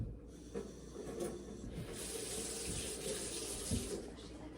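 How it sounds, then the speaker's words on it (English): Water runs and splashes onto filter paper seated in a lab funnel for gravity filtration, a soft, steady trickle and hiss with a few small splashes, fairly faint and close, with no voices. "I'm getting the edges wet so it sticks to the walls."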